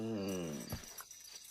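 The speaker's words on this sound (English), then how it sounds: "he's physically trying to push Ladybird into the doghouse, and Ladybird is having absolutely none of it" A cartoon dog growls and whimpers in protest as it is pushed toward a doghouse: a short, close, rising growl that breaks into brief yips and then fades.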